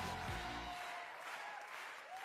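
Studio audience applauds comedian Mustapha El Atrassi on a French TV talk show: a steady, moderately distant wash of clapping runs the whole time, with a brief musical tone at the start.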